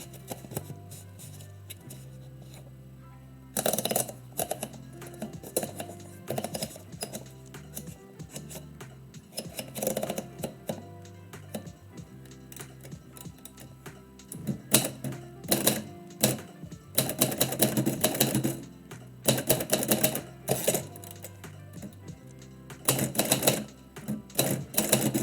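A 1949 Royal Quiet Deluxe manual typewriter typing poetry: bursts of sharp, close key strikes in uneven runs, with pauses and occasional carriage or bell clatter between flurries.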